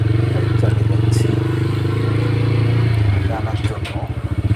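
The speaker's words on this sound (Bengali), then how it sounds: "তো আপনারা দেখতেছেন আমি বাইক চালিয়ে যাচ্ছি" A motorcycle rides along a rough brick-paved village road, its engine drone steady and close with rattling and bumping over the uneven surface, while someone talks over it.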